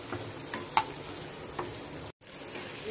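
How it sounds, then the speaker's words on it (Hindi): Garlic and onion masala frying in a pan while being stirred, giving a steady low sizzle with a few soft scrapes of a spoon, close and moderate in level, with a brief dropout near the end and no talking. "इसको थोड़ा सॉफ्ट होने तक हम भून लेते हैं मसाले को"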